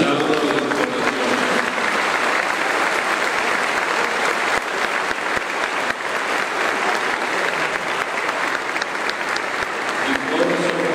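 Crowd applause during the entry of a Jesús de la Paz and Virgen de Dolores procession, a dense, loud and sustained clapping that fills the whole stretch, with a voice briefly audible near the end.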